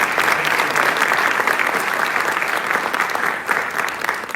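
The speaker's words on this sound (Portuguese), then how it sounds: "Também uma salva de palmas para esses pessoal." A crowd at a live anniversary event for Outward Bound Brasil applauds, dense steady clapping from many people sustained at a loud level, tapering slightly near the end.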